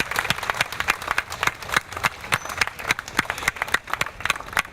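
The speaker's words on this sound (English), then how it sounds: "give yourselves a big round of applause" A crowd at a charity walk event applauds, with distinct individual claps landing in a quick, uneven rhythm, close and fairly loud, sustained throughout.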